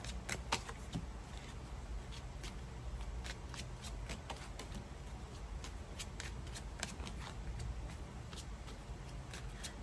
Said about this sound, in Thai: เปิดไพ่สักครู่หนึ่งสามารถข้ามเวลาไปก่อนได้